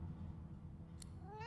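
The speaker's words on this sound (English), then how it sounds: "The cat begins to purr and rub itself on your ankles." A cat in the fantasy role-playing game Divinity Original Sin 2 gives a soft, brief meow-like call over a low ambient game background, with a faint rising tonal sound at the end.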